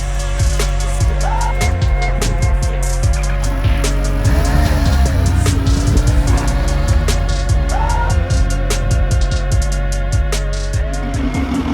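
A 2020 Kawasaki Z H2 Supercharged motorcycle rides off with its engine revving up and down through gears, loud and close, over a steady low rumble and background road noise.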